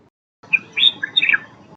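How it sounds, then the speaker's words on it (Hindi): A bulbul gives a short run of bright, clear chirping notes, three or four quick whistled phrases heard up close and alone after a moment of silence. "बुलबुल"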